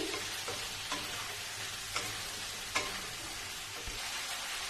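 Fish stew ingredients seasoned with salt and pepper sizzle softly in a pan, a steady frying hiss broken by a few sharp scrapes and taps of a spoon against the pan as everything is stirred together.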